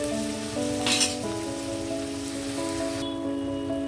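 Chicken cooking in ginger garlic paste in a lidded pan; a soft, steady sizzle continues throughout alongside a sustained tonal hum, with no talking.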